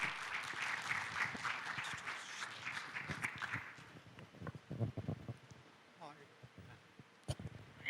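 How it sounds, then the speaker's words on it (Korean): A large round of applause from the audience at a startup competition event, dense and loud for about four seconds before breaking into scattered claps and faint shuffling. "여러분 다시 한번 큰 박수 부탁드리겠습니다."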